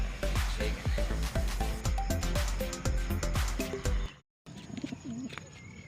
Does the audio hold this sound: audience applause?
no